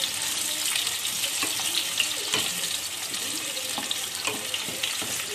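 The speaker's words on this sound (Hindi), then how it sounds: "यहाँ पे हमें इसके कच्चे आम को बहुत अच्छे से फ्राई करना है।" Raw mango pieces fry in a pan, giving a steady, dense sizzle that stays level throughout, with faint clinks now and then and no talking.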